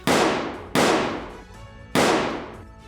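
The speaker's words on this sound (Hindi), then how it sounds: "बदमाशों ने दहशत फैलाने के लिए एक घर पर ताबड़तोड़ फायरिंग की" Three loud, sharp gunshots fired at a house at midnight in Shahdara, Delhi, each blast decaying with a long echo, spaced unevenly a second or so apart.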